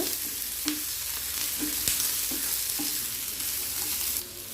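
Onion, ginger and a full head of garlic frying in a pan for chicken curry, a steady loud sizzle with a few scraping stirs and taps of the spoon, no voices.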